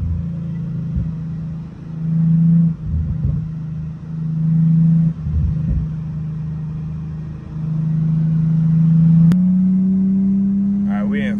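A manual sports sedan's engine rumbles and rises in pitch as it accelerates from inside the cabin, steady and fairly loud, with a voice talking over it.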